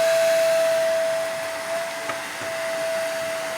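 Motorbike being washed at Sai Seva foam washing centre on Akole–Parkhatpur Road, Akole. A steady, fairly loud spray hiss runs throughout under a thin, constant whine, with no talk.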